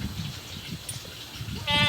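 A goat on a grassy farm plot lets out a single loud, wavering bleat near the end, after a stretch of low rustling and muffled outdoor background noise.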